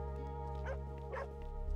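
A dog in the video game Hyper Light Drifter gives two short, light yips over a steady low hum of background music, fairly faint and close together, with no talking.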